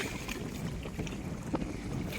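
Steady wind at sea on a deep-sea fishing boat buffeting the microphone with a low, constant rumble, broad noise like open water rushing below.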